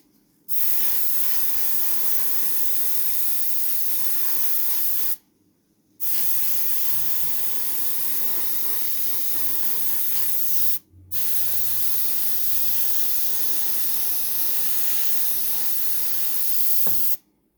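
Close, steady hiss of an airbrush spraying Vallejo Model Air Seaplane Grey paint onto a miniature X-Wing, three long continuous bursts separated by brief pauses, no talk.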